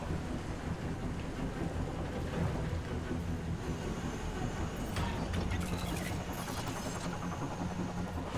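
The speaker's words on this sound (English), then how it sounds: "Hard to get a good shot in this rain." Steady rain pours in a Mass Effect Andromeda battle scene, a dense, constant hiss with low rumbling underneath, faint thunder-like swells and a few brief crackling bursts.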